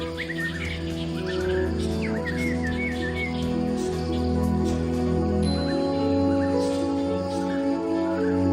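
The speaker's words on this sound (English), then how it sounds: "Tropical rainforests are home to many kinds of colorful birds." Colorful birds call in a Thai tropical rainforest, with bright chirps and whistled phrases scattered over the first few seconds above a steady, loud bed of sustained tones that runs throughout.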